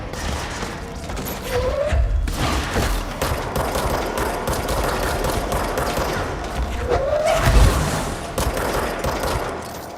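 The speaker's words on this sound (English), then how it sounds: "Oh, it's because of the explosions." Explosions and rapid gunfire from the video game Control, a sustained barrage of shots and thuds running throughout at steady loudness, with heavier blasts near the start and end.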